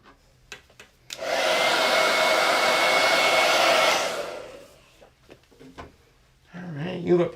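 A hair dryer blows on chalk paste spread over a silkscreen in one loud, steady whoosh lasting about three seconds, with clicks and handling noises before and after and a voice speaking near the end.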